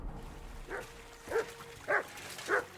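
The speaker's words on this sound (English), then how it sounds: "What are you barking about?" A dog in the video game Kingdom Come: Deliverance II barks four times in short, evenly spaced woofs at moderate distance over quiet background ambience.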